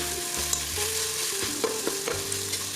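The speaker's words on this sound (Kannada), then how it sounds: "ಈರುಳ್ಳಿ ಚೆನ್ನಾಗಿ ಫ್ರೈ ಮಾಡಿಕೊಂಡು" Onions frying in a pan for a mushroom biryani, stirred with a utensil: steady sizzle under scattered scrapes and clicks of stirring, close and moderately loud, with no talk.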